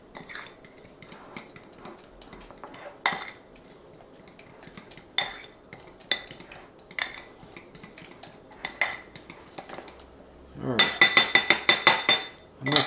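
Lily's chocolate chips are mixed in a bowl with utensil clinks and scrapes, irregular taps against the dish with pauses, ending in a quick rattling flurry, close and moderate in level.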